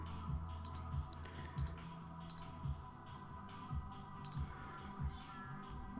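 Computer keyboard number keys pressed in short bursts, soft distinct clicks spaced irregularly every half second to a second, close and fairly quiet over a steady electrical hum, with no talking.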